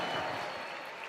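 A crowd applauds and cheers at an Apex Legends esports playoff event, a dense, continuous roar of clapping that fills the space and fades slightly toward the end.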